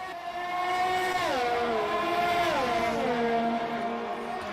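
Two Formula race car engines, a McLaren and a Mercedes, scream through a racing video game at Austria, with high whining tones stepping down through gear shifts, sustained and close, with no talk.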